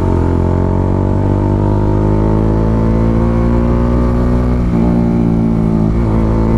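A Bajaj Dominar 400 motorcycle fitted with a custom 61mm exhaust pipe revs with a loud, steady, deep engine drone, held close and continuous with small throttle changes near the end.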